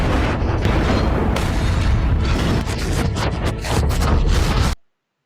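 Heavy artillery returns fire in dense, continuous booming rumbles, loud and close, with overlapping blasts that swell and shake before cutting off abruptly into silence.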